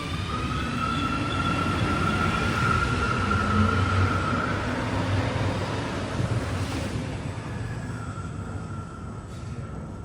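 Alstom metro train on Line 1 (BOA trainset) running, a steady broadband rumble with a whining tone throughout, loud and continuous with no speech.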